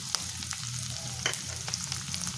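Ginger garlic paste frying with onions in a pan for a pea curry, a close, even sizzle with a few crisp pops and a light scrape of stirring.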